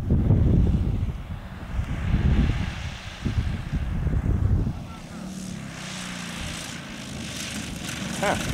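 A small propeller engine buzzes and drones as a large 42% scale Dalton 260 radio-controlled model plane passes, with wind buffeting the microphone and voices talking over it.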